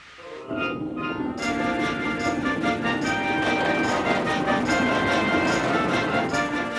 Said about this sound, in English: His wheels pounded the rails